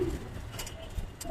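Fancy and racing pigeons (giribaz) coo softly and briefly in a pigeon shop at Kaptan Bazar, with a low, faint murmur of the shop around them.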